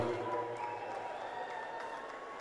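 Crowd applause and cheering at a Dahi Handi human-pyramid competition final, a steady broadband wash of clapping from a large audience, moderately loud and continuous throughout.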